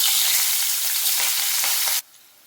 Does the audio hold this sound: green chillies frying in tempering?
yes